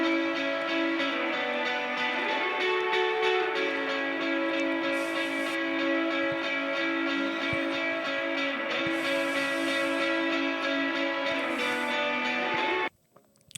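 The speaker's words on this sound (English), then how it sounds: "8K for the high pass sounds like this." Sustained guitar chords through an 8 kHz high-pass filter, with a thin, bright, tinny tone stripped of low end, ringing steadily for about twelve seconds before cutting off abruptly.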